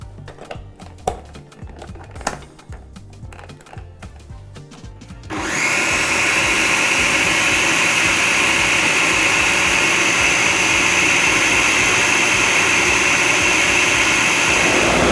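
A blender whirs loudly and steadily, blending beans into a smooth paste for moin moin. A few quiet clinks and shuffles come first, then the motor kicks in abruptly and runs at full volume to the end.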